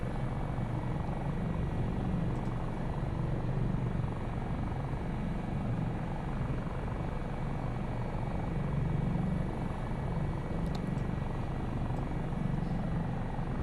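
Dolphin helicopter in Microsoft Flight Simulator climbing near Mt Hood, a steady, continuous rotor and engine drone with a dense low thrum, unchanging throughout and heard alone.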